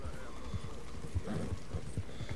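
Horse hooves clop steadily in Red Dead Redemption II, a rhythmic series of soft, muffled beats at moderate distance over low ambient noise.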